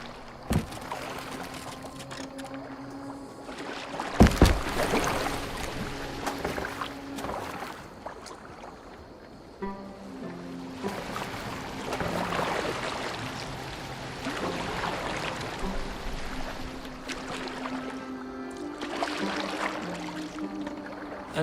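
In Assassin's Creed Valhalla, a boat glides across water with a steady wash and lapping that continues for the whole stretch, broken by a few soft knocks, moderately loud, with no one talking.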